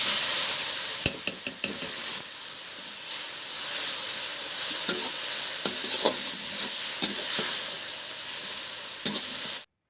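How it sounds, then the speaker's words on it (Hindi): Cumin, two dried red chillies and a bay leaf sizzle steadily in hot oil for a home-cooked vegetable tempering, a loud continuous frying hiss broken by sharp crackles and stirring scrapes, with no voices. "सब्जी छौंकने में हमने ली है थोड़ी सी तेल, 2 चुटकी जीरा, और फिर उसके बाद हमने 2 सूखी मिर्च ली और तेज़ पत्ती ली"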